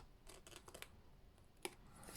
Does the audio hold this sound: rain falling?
no